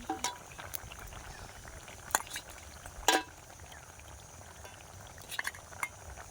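Fish pieces added to a simmering, reduced curry, with a low bubbling bed broken by a few sharp splashes, clinks and plops, quiet and close with no talking.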